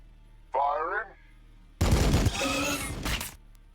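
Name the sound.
gunfire in Warhammer 40000 Battlesector video game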